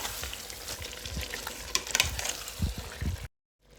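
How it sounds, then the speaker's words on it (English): A steady crackling sizzle of cleaned fish frying in hot oil for Nigerian cornchaff, with occasional louder pops and stirring, ending abruptly in silence. "I already fixed the fish. Look at what it looks like, very clean and neat. Then I have to fry it a bit"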